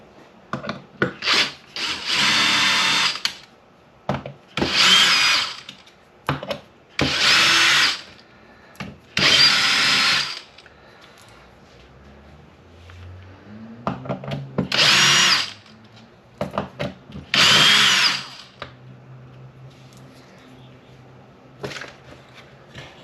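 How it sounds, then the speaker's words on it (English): A power drill works loose the large bolts on an Arrma Outcast 8S RC car, whirring in about eight separate bursts of one to two seconds each, loud and close, with quieter tool handling and faint rubbing between them. "So now we'll go after the big bolts here."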